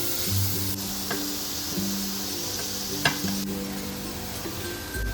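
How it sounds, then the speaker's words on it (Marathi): Steady oily sizzling of tender jackfruit frying in a tempering, with occasional scrapes and clinks of a spoon stirring in a pan, no talking. "हे आता पूस हे केलेले ते टाकतो फोडणीला. हे असं थोडं परतून घेऊया."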